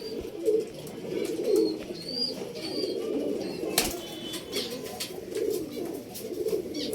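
Pigeons offered for sale in Bangalore coo in soft repeated phrases close by, with a brief burst of wing flapping and faint chirps in the background.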